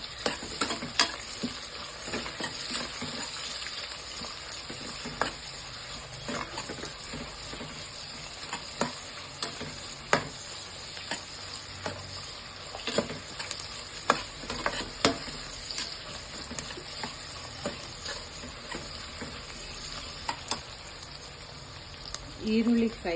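Onions sizzle in hot oil in a pan with steady frying hiss and frequent clicking stirs and scrapes, moderately close, continuing for a long stretch without speech.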